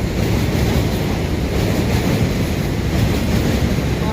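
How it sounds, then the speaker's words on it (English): A J subway train rolls past in New York, a steady, loud rumble with rushing wind noise that fills the whole stretch without a break, heard from close by and with no talking. "look at the train"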